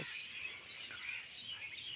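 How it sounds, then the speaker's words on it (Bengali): Birds perched on the rods of a rooftop garden in the afternoon chirp in dense, overlapping high tweets that run continuously and fairly close, with no talk. "আর চারপাশে এত কিচিরমিচির শব্দ"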